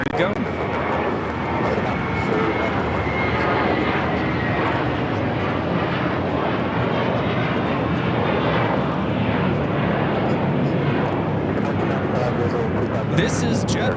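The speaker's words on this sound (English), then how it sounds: "This is JetBlue 524 taking off to JFK on the A321" JetBlue Airbus A321 jet taking off from Los Angeles LAX bound for JFK, a steady broad roar of engines holding loud and constant throughout, with people talking faintly underneath.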